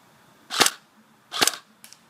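A G&G Combat Machine airsoft rifle firing 0.28 gram BBs at about 380 FPS toward a target roughly 100 feet away: two sharp, close single pops about a second apart, then a fainter short click, with no talking.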